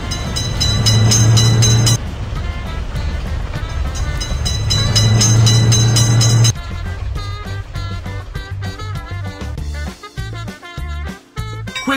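A cartoon train in a children's railway-crossing game rumbles and clatters in two loud bursts, with horn-like tones, between stretches of bright, bouncy game music and sound effects.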